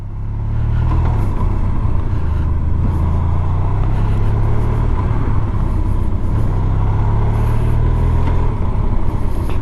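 A Honda VFR1200X Crosstourer motorcycle rumbles steadily while being ridden around a neighborhood, its engine droning loud and close with light revving, no speech over it.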